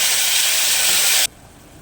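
Tomato puree hits hot cumin tempering with a loud, steady sizzling hiss that stops abruptly, leaving quiet room noise.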